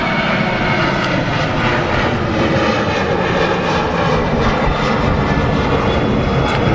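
A Jet2 Boeing 757 landing at Manchester Airport fills the air with a loud, steady engine roar that holds without a break from start to finish, with no voices.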